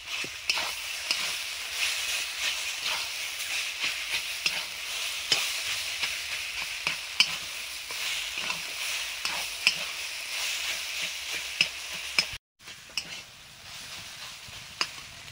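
Boiled vegetables and mashed boiled potato are stirred and fried in a pan for vegetable chop, a steady sizzle under repeated scraping of a spatula, close and continuous, with a brief cut near the end.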